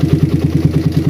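Motorcycle engine fitted with a PWK carburetor, its idle faltering as the throttle first opens, a close, loud, lumpy low thrum pulsing in a rapid, uneven rhythm.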